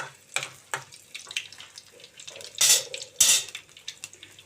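Mustard seeds splutter in hot oil for tomato rasam, giving scattered sharp pops and crackles with two louder crackling bursts near the end, close and fairly loud, with no talking.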